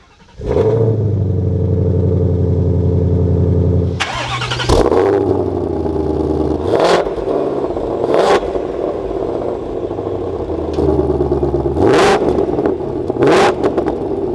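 A 2022 Ford Mustang Shelby GT500 Carbon Fiber Track Pack engine cranks and catches, then holds a loud idle before several sharp revs rise and fall in quick succession, close up.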